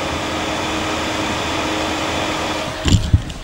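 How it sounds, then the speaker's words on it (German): An iMac's cooling fan runs as a quiet, steady whir close by, ending in a few soft knocks. "Man bewundere, wie leise die Kühlung, der Ventilator, was auch immer,"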